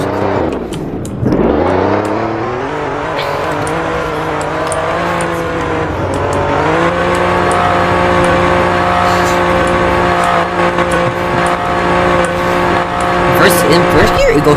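Engine of a 2021 Alfa Romeo Giulia Quadrifoglio accelerating hard, a loud close revving note that rises and shifts pitch through the gears for about fifteen seconds, steady and strong throughout.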